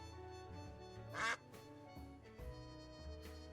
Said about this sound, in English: If you press Q when there's nothing to inspect, he quacks.